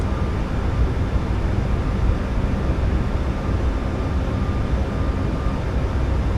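Boeing 737 MAX 8 airliner climbing out after departure in a flight simulator, a steady, dense engine roar with a faint whine running unbroken throughout, no voices.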